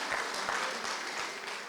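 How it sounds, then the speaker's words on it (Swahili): An audience at a women's organisation anniversary celebration applauds, a soft, fairly distant patter of clapping that runs steadily through the short stretch without a clear start or finish. "Mnapiga makofi jamani"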